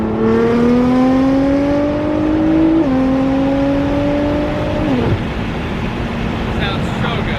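Nissan GT-R engine revving and pulling hard, rising in pitch through two upshifts before easing off, loud and close over a steady rushing background.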